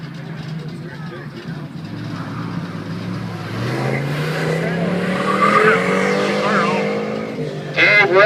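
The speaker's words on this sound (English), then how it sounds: "lap on the course in his big block 66 Corvette" A big-block 1966 Corvette runs a lap on a car show autocross course, its engine climbing in pitch under steady commentary, with tire squeal near the end.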